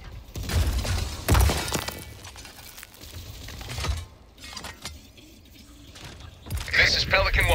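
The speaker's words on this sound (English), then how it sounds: "Throwing grenade!" Grenade blasts in the video game Helldivers 2: several heavy booming bursts with shattering debris, spaced a few seconds apart, over game noise, with voices talking in between.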